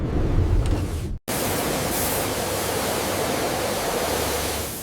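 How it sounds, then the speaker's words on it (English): A new car in a factory takes a water-spray rain leak test, a dense, loud, steady hiss of spraying water that cuts out abruptly for a split second, then resumes at full strength and continues unbroken. "This test makes sure rain never gets inside your car."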